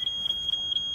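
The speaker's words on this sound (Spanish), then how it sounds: "Nos dicen que el detector de humo está" A smoke detector alarm sounds during a test, a loud, piercing high-pitched electronic tone repeating in short pulses with brief gaps, close by and with no voices over it.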